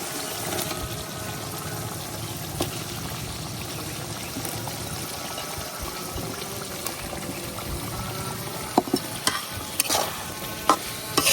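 Papaya pieces are stirred into fried masala in a pan for a pabda fish curry, a soft steady sizzle with scraping stirs that grow into sharper clatters toward the end.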